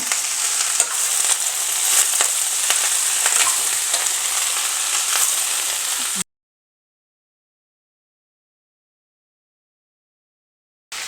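Garlic and onion fry in hot oil with a steady, close, loud sizzle that cuts off abruptly partway through, leaving silence before a brief return at the end.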